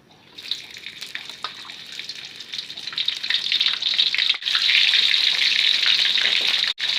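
Smoked fish pieces frying in a pan under a low flame on a stovetop, a steady bright sizzle that swells louder partway through and keeps hissing with crackly spits, briefly cut off near the end.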